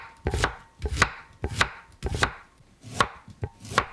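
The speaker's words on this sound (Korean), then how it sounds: "양파 반 개를 채 썰어 주세요." A knife julienning half an onion on a cutting board, giving about eight sharp, evenly spaced chops in a steady rhythm. The chops are close and crisp, with no talking.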